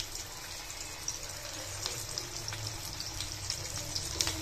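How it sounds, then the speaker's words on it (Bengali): Tea-time snacks fry in hot oil with a continuous bubbling hiss, scattered with small pops and crackles at close range. "তেলটা বেশ ভালোই গরম হয়ে গেছে, আমি এখন একটা একটা করে ছেড়ে দিচ্ছি।"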